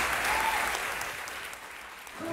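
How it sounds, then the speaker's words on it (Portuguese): An audience applauds in a studio during a Brazilian Sunday football show, with dense, steady clapping at close range that fades slightly toward the end. "Palmas para o Sandro Gama."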